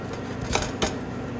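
A knife slicing through a potato in a home kitchen, giving two short, crisp cuts about a third of a second apart, close and fairly clear over faint room noise.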